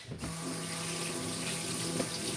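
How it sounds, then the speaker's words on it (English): Hands are washed under a running kitchen tap. Water streams steadily and close up into the sink for a couple of seconds, with no voices. "Wash my hands."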